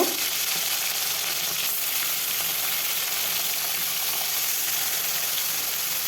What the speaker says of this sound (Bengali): লবণ হলুদ মাখা মাছগুলো এখন ভেজে নেব